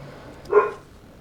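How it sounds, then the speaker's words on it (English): A single short dog bark sounds from a moderate distance, otherwise quiet. "Sorry about the dogs."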